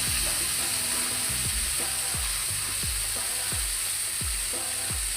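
Lentil badi frying with eggplant in a pan, a steady close sizzle with repeated clinks and scrapes of a spatula stirring at a fairly regular rhythm.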